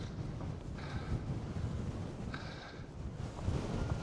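Strong wind buffets the microphone on an exposed hilltop, a steady low roar with gusts swelling and easing over a few seconds; no voices.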